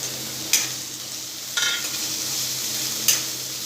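Capsicum and cabbage stir-frying on high flame in a pan, a steady loud sizzle with three sharp scrapes of the spatula as the vegetables are tossed.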